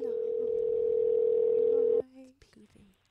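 Steady telephone dial tone held for about two seconds while a call is being placed, loud and close, then cut off, followed by faint clicks and fragments of voice.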